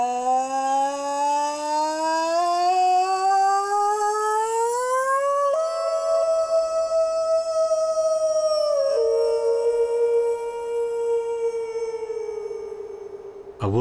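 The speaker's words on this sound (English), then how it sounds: "A wolf howl can travel 8 kilometers." A long, loud wolf howl, rising steadily in pitch and then holding a high, drawn-out tone before dipping near the end, sounding alone and close in a quiet coastal Canadian wilderness.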